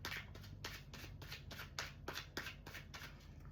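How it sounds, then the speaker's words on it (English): Tarot card decks being shuffled by hand, close and quiet, with a rapid run of crisp riffling bursts and soft slaps repeating steadily, alone without talk. "I shuffled a little bit before on all the decks, but I'll still shuffle again."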